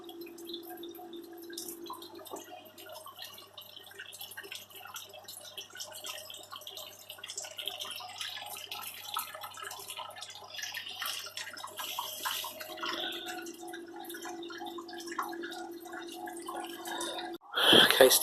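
Sparge water trickling and dripping into a home-brewing boil kettle, a faint steady patter of drops that grows slightly fuller, with a brief louder clatter at the end.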